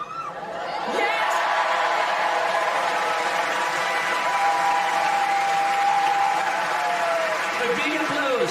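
Crowd applause at the Wimbledon women's final match point, Serena Williams against Simona Halep in 2019, a loud sustained wash of clapping and cheers with scattered whoops across the whole stretch.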